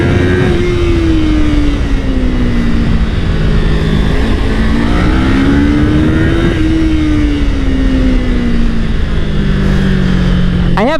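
Kawasaki Ninja 500 SE or Aprilia RS457 sport motorcycle on the move at full throttle down a hill, loud engine drone with wind roar, pitch climbing and dropping as it shifts up through the gears.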